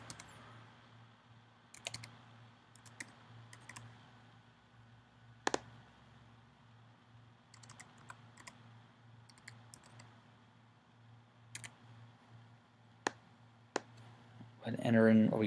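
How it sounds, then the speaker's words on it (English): Social Security number typed on a computer keyboard, sparse quiet key clicks scattered through the clip, with a few sharper taps and a low steady background hum. "we'll type in some Medicare information, so we'll type in a Social Security number"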